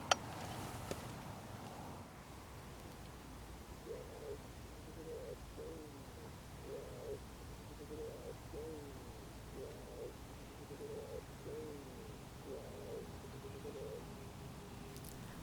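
A wood pigeon coos near decoys on a still, hot morning: soft, evenly spaced phrases repeat over about ten seconds, faint and somewhat distant over a quiet hiss.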